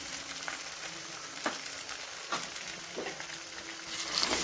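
Eggs fry in a pan for fried rice, a steady close sizzle with crackles and a few sharp pops of hot oil, rising slightly toward the end.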